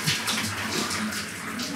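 Water streams from a handheld shower douche at seemingly low pressure, a close, steady rushing spray with no talking.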